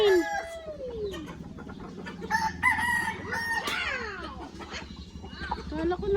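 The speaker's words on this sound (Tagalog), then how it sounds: "Yung manok ay inahin." Hens cluck and squawk nearby in bursts, with a rooster-like call mixed in and people talking in the background.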